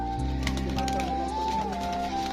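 Giribaz pigeons coo softly at a pigeon farm, low repeated cooing calls close by over a steady background hum, with faint overlapping bird sounds and no talking.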